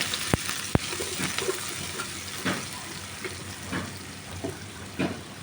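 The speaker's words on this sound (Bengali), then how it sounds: "দিয়ে সামান্য নাড়াচাড়া করছি।" Chopped onion, garlic and ginger stir-fried in oil for chilli paneer, a steady close sizzle broken by two sharp metallic knocks at the start and scattered scrapes of a stirring spoon.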